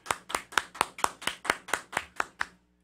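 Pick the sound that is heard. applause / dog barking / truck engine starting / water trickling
applause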